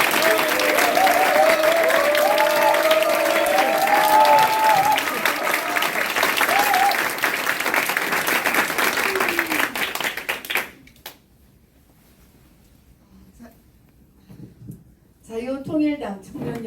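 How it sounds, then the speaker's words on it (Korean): An indoor crowd at a Korean political party youth committee launch ceremony applauds in sustained, dense clapping for about ten seconds, then falls quiet before a speaker begins. "큰 박수 부탁드리겠습니다"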